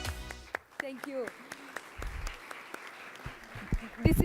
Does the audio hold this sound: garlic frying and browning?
no